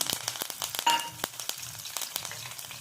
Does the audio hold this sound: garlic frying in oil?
yes